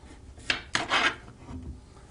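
A knife saws through lobster tails, cutting them in half with a few close, raspy scraping strokes in short bursts, then quieter rubbing, with no talk.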